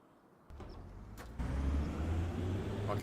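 A John Deere tractor engine in Farming Simulator 25 starts up after a quiet moment, stepping up in two stages into a steady low rumbling idle that continues to the end.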